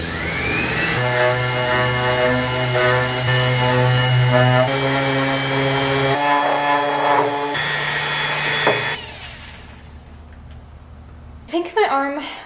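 A power sander works on 3D-printed clone trooper armor, giving a steady loud whirring drone with sustained tonal harmonics for about nine seconds, then it cuts off, leaving quiet room noise and a few brief handling knocks near the end.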